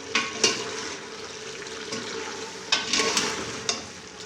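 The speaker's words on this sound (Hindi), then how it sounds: "अब इसको अच्छी तरह मिक्स करेंगे।" Mutton and cauliflower curry hisses in a pan while a spoon stirs and scrapes through it in several close, uneven bursts over a constant sizzle.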